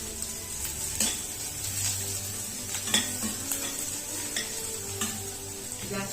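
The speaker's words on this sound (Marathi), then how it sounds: "कांदा चांगला गोल्डन ब्राऊन झाला." Golden-brown onions frying in a pan while being stirred, a soft steady sizzle broken by several sharp scrapes and taps of a spoon against the pan, close and moderately quiet.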